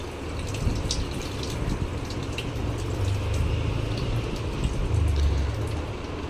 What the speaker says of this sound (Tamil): அதை 6 or 7 டைம்ஸ் நல்லா கழுவணும்